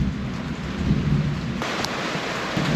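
Rain drums steadily on a sailboat anchored at its mooring during a night thunderstorm, a dense close patter over a low rumbling undertone, with a faint brief tap partway through and no talk.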